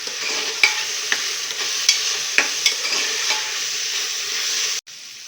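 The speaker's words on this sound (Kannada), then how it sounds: "ಅರಿಶಿನ ಪುಡಿ ಹಾಕ್ಕೊಂಡು ಸ್ವಲ್ಪ ಮಿಕ್ಸ್ ಮಾಡ್ತೀನಿ" Turmeric powder stirred into a sprouted horse gram curry in a hot pan: a steady frying sizzle with a spoon scraping and tapping the pan every half second or so, close by, ending abruptly.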